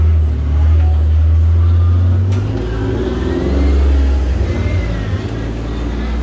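A car engine revs loudly as it passes close by on a street, the roar rising and falling over several seconds with a strong low rumble.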